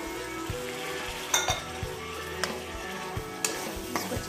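Green chilies and chopped tomatoes fry in a pan with a steady sizzle, while stirring brings in a few scraping clinks at irregular intervals, close and moderately loud, with no voices.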